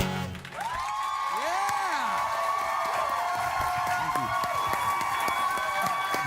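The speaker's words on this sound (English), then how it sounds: "And cheering, everybody." A large crowd cheers steadily throughout, with shrill whoops and shouts rising above a dense, loud roar that barely dips.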